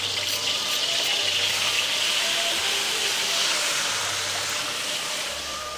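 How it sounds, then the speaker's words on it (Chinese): Sichuan chili bean paste sizzles in moderately hot oil for Dongpo pork knuckle, a steady dense hiss of frying held at even loudness throughout, with a faint low hum running underneath. "六成油温，豆瓣下锅"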